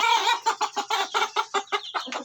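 Three-month-old young roosters (stags) clucking and calling in a rapid run of short, loud, close bursts, with no talk.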